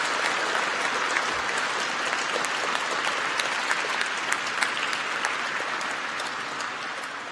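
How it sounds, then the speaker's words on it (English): Loud, dense applause from a crowd at a national academic competition, a continuous patter of many hands that fills the whole stretch and eases slightly toward the end. "Could you please give them a big round of applause as well?"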